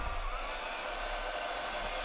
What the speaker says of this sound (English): I'm just going to use my embossing tool instead of baking it in the oven